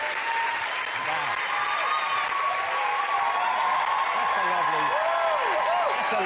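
A studio audience on a TV talk show applauds and cheers a welcome, steady dense clapping sustained throughout with a few whoops rising above it.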